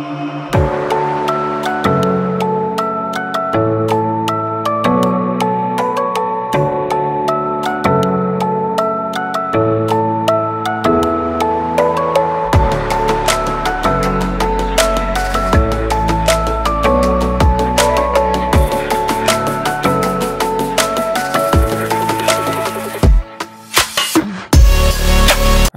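A demo track from a construction kit sample pack plays loud and continuous, with a steady beat, layered melodic parts and a heavy bass drop joining midway, no voices over it.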